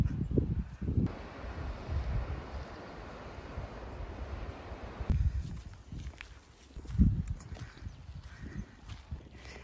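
Steady wind gusts buffet the microphone on a coastal trail at Cape Kamui, Hokkaido, with low rumbling bursts rising and falling, strongest near the start and again midway.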